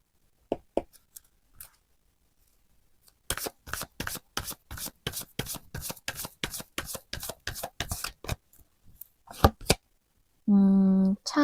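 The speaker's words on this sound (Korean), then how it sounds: "우리 2번님들의 테마 카드를 한번 뽑아 보도록 할게요." Tarot cards shuffled by hand in quick, regular crisp riffles and snaps, close and alone, with a few separate card slaps first and a short burst of another sound at the end.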